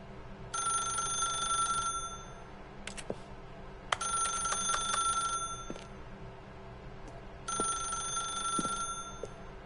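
A telephone in the video game The Stanley Parable rings in three long electronic trills separated by pauses, fairly loud over a quiet hum with a few soft knocks.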